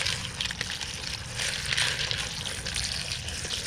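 Tumbled rocks after step 2 of rock tumbling, mixed with ceramic media, being rinsed under water, giving a steady close splashing, hissing wash with no talk.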